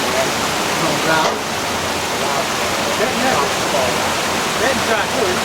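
Steady rushing of water pouring down inside a wastewater treatment plant, a continuous broadband splash close by with faint voices murmuring beneath it.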